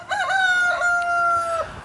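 One loud, close rooster crow inside a farm animal building, a drawn-out, strained call holding a steady pitch before trailing off.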